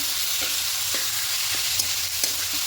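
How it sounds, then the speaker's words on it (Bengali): Taro leaves (kochu shaak) are stirred in a frying pan, giving a steady close sizzle with soft periodic scrapes and taps from the spoon, no voices. "এবার এখানে কচু শাকটা দিয়ে দেব খুব ভালো করে মিশিয়ে নেব"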